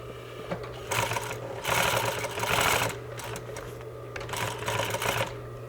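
A sewing machine stitches fabric around a circle close by in several bursts of rapid mechanical whirring, separated by short pauses.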